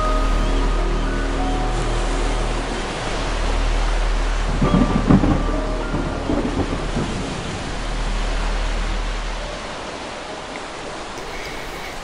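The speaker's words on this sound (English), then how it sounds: "A storm was brewing on the western sky." Thunderstorm on Chania, Crete: a steady rush of rain and wind fills the whole span while deep thunder rumbles roll in, with a louder crack of thunder near the middle, no voices.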